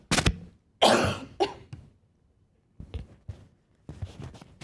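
Several close coughs and throat-clearing bursts, a loud pair early on, then quieter scattered coughs with pauses of silence between.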